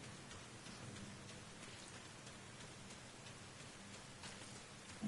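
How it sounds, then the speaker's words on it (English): Heavy rain in the military video game Arma Reforger, a dense, continuous hiss of drops striking surfaces, steady and even throughout with no voices. "Got a heavy rain here. Heavy rain."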